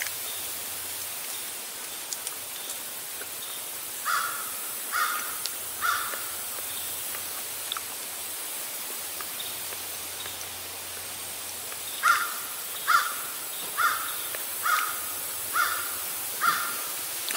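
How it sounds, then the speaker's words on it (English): A crow caws far off in trees during autumn in Middle Tennessee, faint repeated calls coming in short bursts over steady outdoor hiss. "I hear a crow in the far-off distance, right over in them trees"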